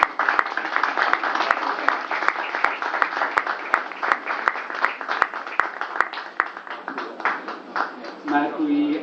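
Audience applause at a film-fund award ceremony, steady clapping from a room of people that thins out toward the end as a voice begins speaking.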